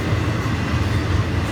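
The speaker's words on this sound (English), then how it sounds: "This is train 101, the daily hotshot train from Bowden Yard to Port Seawall in Miami." FEC freight train 101, a hotshot intermodal train carrying trailers and container cars, rumbles past close by with a steady, loud roar of wheels and rail noise.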